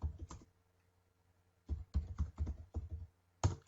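Keys clatter on a computer keyboard as search words are typed: a short burst, about a second of quiet, then several quick clusters of close, crisp keystrokes.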